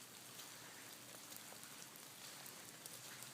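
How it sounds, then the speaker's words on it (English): Steady rain falls outdoors on a triple spiral labyrinth path on a cold day, a dense, even hiss of drops with no voices. "It's raining. It's been raining."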